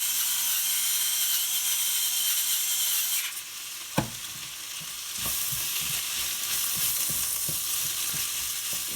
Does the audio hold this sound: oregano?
yes